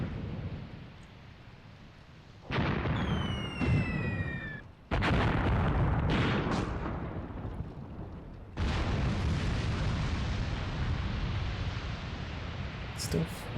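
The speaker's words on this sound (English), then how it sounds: "So we'll just let our artillery try and take that out." Artillery fire in the World War II tactics game Graviteam Tactics: Mius Front lands as several heavy, booming blasts, each trailing into a long low rumble under steady background noise.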